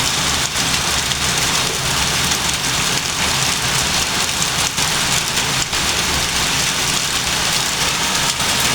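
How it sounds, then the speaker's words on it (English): Hailstorm in Maseru, Lesotho: a dense, loud, continuous patter of hail and rain pounding surfaces nearby, with occasional sharper impacts and a faint engine-like hum underneath. "Hailstorm is here."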